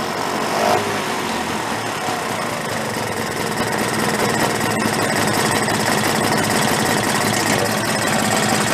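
A 1964 Vespa VBB 150 scooter engine idles steadily at close range with the choke off, a continuous buzzing, vibrating drone with no talk over it.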